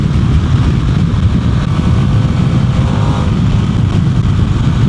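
A 2026 Harley-Davidson Pan America Limited motorcycle engine drones steadily and loudly throughout, a continuous low rumble with wind noise, no talking.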